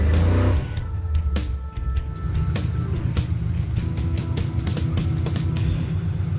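The Roadkill Garage Crusher Camaro's engine roars and accelerates at the Las Vegas speedway, loud and close, with a steady revving rumble broken by sharp clicks and crackles.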